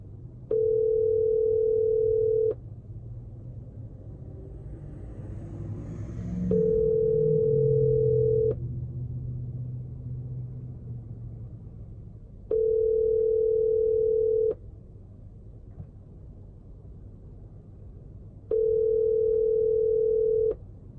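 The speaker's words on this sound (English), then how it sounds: "Hold on, I'll call him real quick." Phone call ringing out, four evenly spaced long ringback tones about six seconds apart, clear and steady against a low background hum, with faint murmuring between rings.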